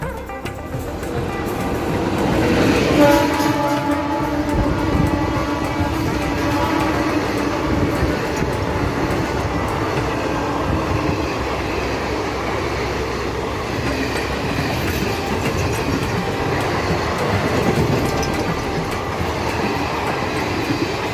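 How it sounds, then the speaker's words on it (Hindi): A WG7 locomotive races past at speed hauling an empty Shaheed Express LHB coach rake, its loud, steady rumble and rail clatter sustained throughout with a brief wheel squeal near the start. "सामने एक WG7 लोकोमोटिव काफ़ी तेज़ रफ्तार में शहीद एक्सप्रेस के खाली रेक को यहाँ से दिल्ली की ओर ले जा रहा है।"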